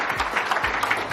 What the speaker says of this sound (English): Thank you all for clapping so loud so I could hear that I needed to get back in the room